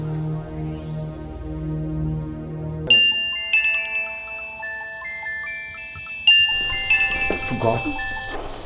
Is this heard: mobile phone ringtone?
yes